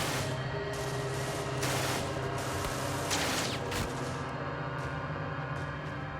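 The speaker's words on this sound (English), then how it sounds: "18-year-old German conscript Franz Gockel has been shooting at American troops continuously since the Allied invasion began." Sustained gunfire from a large German concrete bunker overlooking Omaha Beach during the D-Day landings, a dense continuous fusillade of shots and blasts over a constant battle rumble, loud and unbroken.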